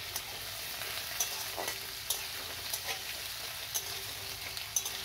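Potatoes frying in hot oil with five-spice, a dry red chilli and a bay leaf, a steady soft sizzle with occasional light stirring scrapes and small pops throughout.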